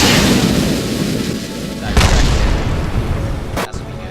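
Missiles fire and explode in Kerbal Space Program, a dense roaring rumble punctuated by two sharp booming impacts, loud and close.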